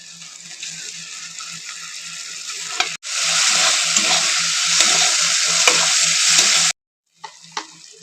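Chopped tomato hitting hot oil with ginger and garlic in a pan, a loud bright sizzle that surges and holds, stirred with scraping strokes, then cuts off abruptly near the end.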